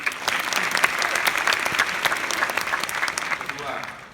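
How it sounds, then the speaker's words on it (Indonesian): An audience at a live stage talk show event in the Netherlands bursts into applause, a dense, loud wash of clapping that holds steady for about four seconds before easing off slightly at the end. "Jadi tepuk tangan buat kita semua."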